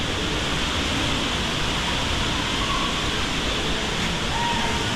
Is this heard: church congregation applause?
no